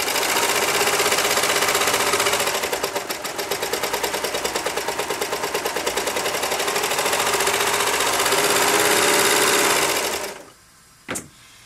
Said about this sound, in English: We're going to start by serging around this curve that we cut a hole.